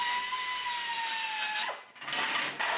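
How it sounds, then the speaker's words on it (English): A power tool flattens and finishes welds on a metal cover plate for an Austin Mini GT-Four, giving a steady high whine with a falling tone, then a short dip and renewed bursts of grinding, close and alone. "Finally, various tools are employed to flat the welds back and finish the job nicely."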